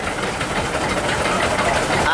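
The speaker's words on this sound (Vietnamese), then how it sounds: "Máy này là nó là máy Kubota chạy xăng dầu hôi." An old 3 hp Kubota engine built in 1922, running on petrol and kerosene, chugs steadily at low speed with a dense, continuous mechanical rumble and clatter that stays close and even throughout.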